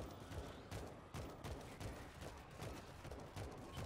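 Rapid bursts of gunfire as zombies are shot in a video game, dense repeated shots in a steady rhythm at low volume.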